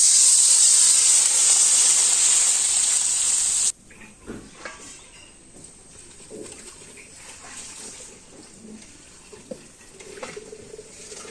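Water poured into a hot pan of cooking potatoes gives a loud, steady hiss for a few seconds. It cuts off abruptly, leaving quieter clatter and faint sizzling.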